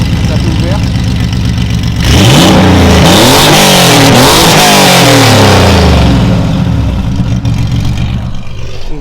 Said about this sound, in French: Là c'est un clapet fermé, clapet ouvert.